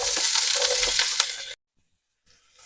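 Onion and green chillies hit hot tempering oil with mustard seeds and urad dal and crackle into a loud, close sizzle with a few sharp pops. After about a second and a half it cuts to silence, then a quieter sizzle comes back.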